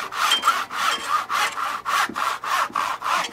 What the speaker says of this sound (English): No one uses saws like this anymore.